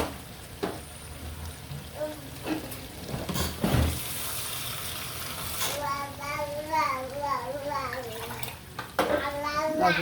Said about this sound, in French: Nous ajoutons un tout petit peu d'eau.